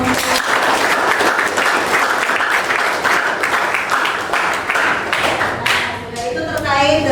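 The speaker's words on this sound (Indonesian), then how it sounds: "Ya, tepuk tangan." An audience in a classroom-style session breaks into applause, a dense burst of clapping that swells and tapers across several seconds, with a voice speaking over the fading claps near the end.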